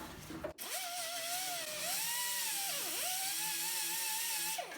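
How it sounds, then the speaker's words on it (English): A die grinder fitted with a Scotch-Brite wheel cleans a ground point on a Chevy S10 during fuel sender replacement. It whines high and loud and continuously, with its pitch dipping under load and recovering. "I'm just going to use a die grinder, just a Scotch-Brite wheel on it"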